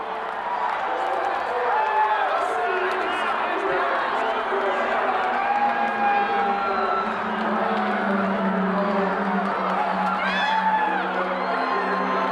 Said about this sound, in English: You should hear the crowd.